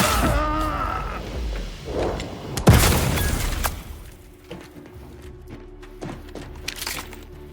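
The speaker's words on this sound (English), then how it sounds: "Grenade! Away!" A grenade detonates in The Outer Worlds 2: one loud, sharp blast midway, followed by a decaying rumble and scattered small clicks and crackles.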